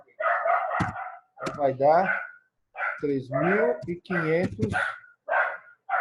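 A dog barks repeatedly in bursts, loud and close, and someone speaks between and over the barks.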